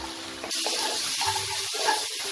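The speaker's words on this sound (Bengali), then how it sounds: "এবার আমি এতে জল দিয়ে দেবো।" Water pours into a pan of spiced masala being cooked down with chilli powder and salt for a Bengali cabbage dhoka dalna, a steady close splashing gush after a brief start.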